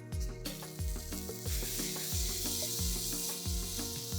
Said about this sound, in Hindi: अब मिक्स कर देंगे सारे मसालों को